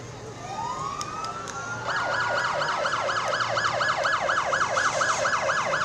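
A fire department brush rig sounds its siren in a small-town Bald Eagle Days parade, a rising wail that switches to a fast repeating yelp, loud and close, with no talking.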